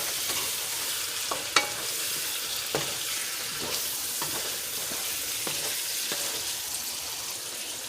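Salmon frying in a pan with ginger and garlic gives a loud, continuous hiss and crackle, broken by a few faint utensil taps and clicks.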